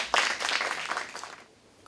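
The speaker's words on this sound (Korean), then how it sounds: "박수로 환영해 주시기 바랍니다." Church conference audience applauding to welcome a speaker, a short burst of dense clapping from a hall crowd that tapers off within two seconds, with no one talking.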